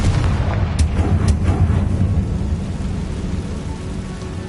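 A Confringo blasting spell in Hogwarts Legacy sets off a booming explosion, with a heavy rumble and a couple of sharp cracks early on, then a long rolling decay that fades gradually.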